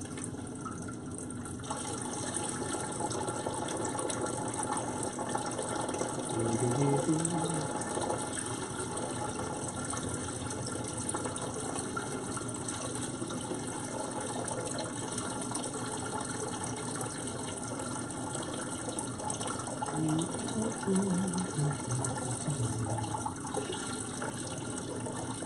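Water pours into a fish tank in a steady, soft stream for the whole stretch, a continuous gentle gush with slight splashing and no voices.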